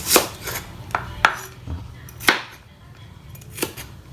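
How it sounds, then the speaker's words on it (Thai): A knife chops sharply through fingerroot on a board, five or six separate strikes at uneven intervals, close and crisp with quiet pauses between. "กระชายจะใช้หั่นท่อนแล้วก็ทุบนะครับ"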